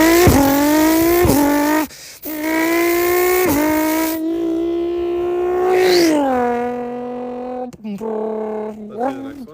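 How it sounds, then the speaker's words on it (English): Nissan R35 GT-R engine and exhaust heard up close and loud. Long sustained revs hold a buzzing tone, dip briefly, then rise and fall again across a few pulls. "Next one, R35 GTR."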